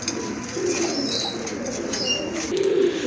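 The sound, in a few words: pigeons cooing, including Lahori pigeons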